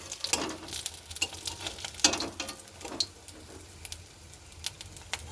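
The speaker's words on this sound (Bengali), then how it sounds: "দেখুন ভাজা হয়ে গেছে, খুব বেশি লাল করিনি, মুচমুচে একদম কুরকুরে মুচমুচে হয়েছে" Prawn pakoras deep-fry in hot oil with a close, bubbling crackle, broken by irregular pops and scraping stirs.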